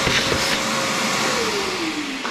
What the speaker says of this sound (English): got a little vacuum. Something to just vacuum it all up real quick.